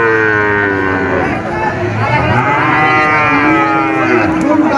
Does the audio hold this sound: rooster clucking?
no